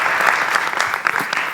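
Audience applause on a stage show: a burst of many hands clapping, loud and close, sustained for the whole moment with no talk over it.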